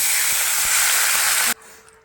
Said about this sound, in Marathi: एक कलासभर पाणी ओतूया आपण ह्यात